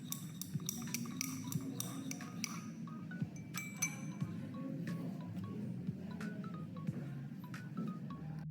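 Salt solution stirred in a glass beaker, with a stirring rod giving repeated light glassy clinks and taps, quick and irregular at first and then sparser, over a faint steady background with no talk.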